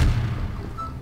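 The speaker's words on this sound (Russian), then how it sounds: "Все, я взрываю." A heavy bomb blast in Garry's Mod opens with a loud, close low boom, then a deep rumble that slowly fades and lingers for about a second.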